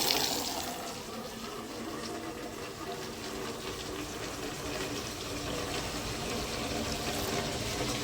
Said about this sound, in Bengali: জল নিই কল ছেড়ে দিই